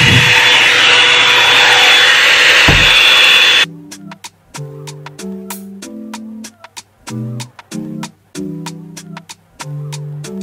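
A Revlon One-Step hair dryer blows hair in a loud, steady rushing whoosh for the first few seconds, then cuts off abruptly and gives way to a run of plucked musical notes.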